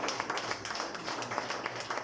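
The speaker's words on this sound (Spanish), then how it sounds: "dale ese aplauso más fuerte a aquel que lo merece" A church congregation applauding during a Thursday worship service, a dense patter of many hands clapping at once, steady and moderately loud throughout.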